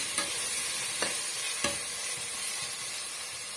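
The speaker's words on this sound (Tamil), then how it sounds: "தக்காளி ஓரளவுக்கு நல்லா மசிஞ்சு வரணுங்க அது வரைக்கும் நம்ம வதக்கி விட்டுக்கலாம்" Tomatoes sizzle and fry in a pan for a bamboo shoot curry, with a steady soft hiss and a few light stirring scrapes, quiet and close, no voices.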